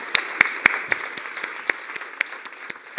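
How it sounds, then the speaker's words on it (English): Sparse applause from a small audience at an international symposium at Casa de América, with a few sharp, distinct claps at first thinning into scattered, quieter clapping. "A big hand and applause to you all."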